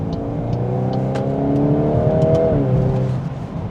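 A hot hatch's engine revs steadily through its stock exhaust in race mode, a smooth, rising drone with light gurgles that drops away near the end. It sounds close and fairly loud, with no talking.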